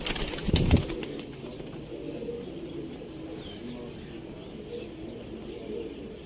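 Teddy pigeons in a breeder's loft in Sialkot coo with low, soft, repeated calls through the clip, after a brief burst of flapping or handling noise at the start, with faint voices in the background.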